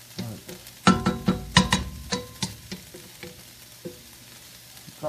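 Oil sizzles and crackles in a pan while mushroom fried rice is fried and stirred, with a string of sharp, loud bursts of frying that settle into a steadier hiss, close to the mic and with no talk over it.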